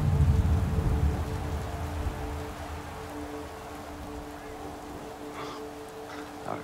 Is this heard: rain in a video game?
yes